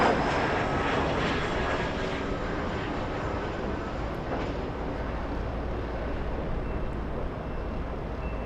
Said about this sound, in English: The departure flight to Tucson, Arizona, SkyWest